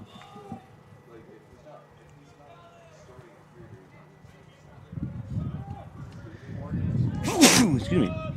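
A single loud sneeze bursts out near the microphone during a live broadcast of a North Eugene basketball game, following ongoing commentary and crowd noise.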